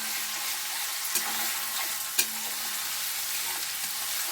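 Grated tomato goes into a pan of frying jackfruit-seed curry, a steady loud sizzle filling the clip, with a couple of brief sharp clicks from the pan or spoon partway through.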